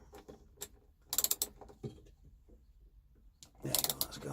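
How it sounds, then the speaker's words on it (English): A ratchet fitted with a Torx T27 bit turns a screw on a VW T25 seat base, giving short bursts of close, quiet clicking separated by pauses. "Let's put it into a ratchet. Let's just see if we can move this."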